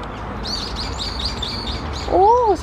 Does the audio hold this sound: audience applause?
no